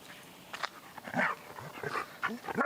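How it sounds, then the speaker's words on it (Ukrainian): A white Swiss shepherd search dog works a scent close by, giving soft whimpers, sniffs and panting in short uneven bursts, with a little background noise. "я продемонструю, як собака його шукає та позначає"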